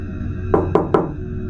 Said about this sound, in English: But around 2 a.m., Adrian woke up to the sound of knocking.